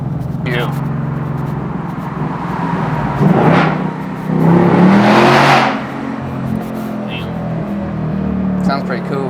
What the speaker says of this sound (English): That's surprisingly loud for a factory exhaust.